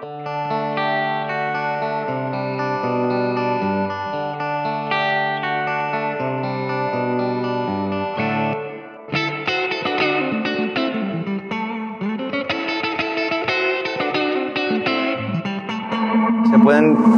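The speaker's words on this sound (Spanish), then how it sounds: "Y vamos a poner un poquillo de reverb" An electric guitar through a Blackstar Debut 50R amplifier with a touch of reverb, first ringing chords, then busier single-note lead lines with bends and a lingering tail, loud and close.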